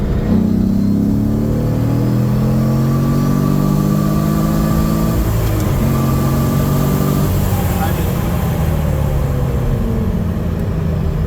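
Porsche 911 engine with a 996 transaxle pulls hard after a downshift, revving from 3,000 rpm to redline as loud rising harmonics sweep upward, then the revs drop and climb again, heard close and continuous from inside the car.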